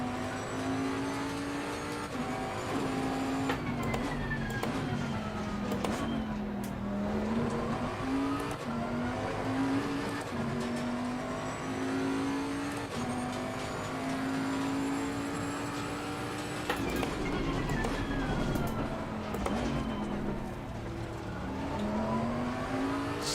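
A British GT race car in Assetto Corsa Competizione howls steadily, its engine note climbing and dropping through gear changes and corners, heard alone with no talk over it.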